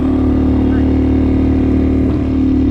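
A Honda Big Hawk 250 motorcycle climbs a long mountain road toward Pikes Peak in third gear. Its engine is not rejetted for altitude. It gives a steady, loud, close droning hum that holds constant throughout, with faint talk underneath.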